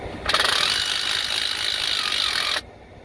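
A rivet tool sets a rivet held loose rather than in a surface, letting out one continuous mechanical ratcheting whir of about two seconds at close range, then stopping abruptly, with no talking.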